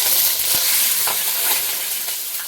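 Butter in a hot pan for the tadka of a butter masala chaap dish gives a steady, close sizzling hiss with faint crackles, fading slightly toward the end.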